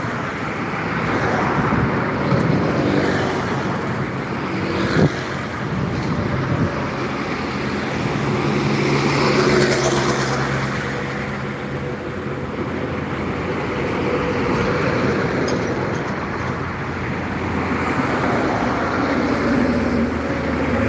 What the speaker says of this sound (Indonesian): Ini pasukan truk-truk aja kan terlihat baru, nah truk-truk.